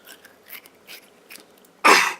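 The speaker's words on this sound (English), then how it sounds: "Let's just listen to the amazing crunch of the ducky skin." A squishy toy duck's skin is cut; several faint soft crackling snips lead to one loud, sharp crunch near the end, close up and without talk.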